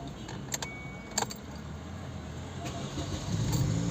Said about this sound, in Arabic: وراح أشغل السيارة